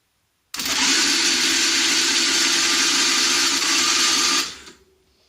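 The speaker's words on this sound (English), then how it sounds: "I just want to demonstrate how the starter motor turns over the engine" A car's starter motor turns over the engine while it is off, making a loud, steady whirring grind that holds for about four seconds, then cuts off and winds down.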